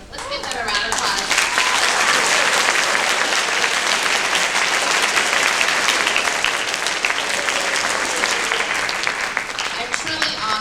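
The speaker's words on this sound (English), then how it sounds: "Let's give them a round of applause." Sustained audience applause fills an alumni awards assembly for a school district, dense and steady clapping from a large crowd that continues at full strength throughout, with some voices mixed into the ovation.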